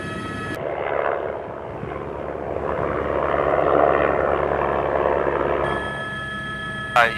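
A steady rotor and engine drone of a helicopter flying over mountain terrain in a French nature reserve for a wildlife count, rising and falling slightly, with brief electronic tones at the start and end.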